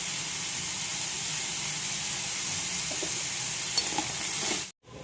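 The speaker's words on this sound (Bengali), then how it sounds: "লাল করে ভাজবো নুন দিয়ে, তাহলে পেঁয়াজটা একটু নরম হবে" Onion sizzles with salt in a hot pan while Bengali posto is being cooked. A steady, close frying hiss runs throughout and cuts out briefly just before the end.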